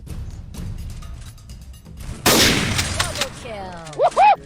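Gunfire in the Free Fire mobile battle game, with a burst of loud shots around the middle, then further crackling shots and bright, rising electronic game effects near the end, heard over faint background chatter.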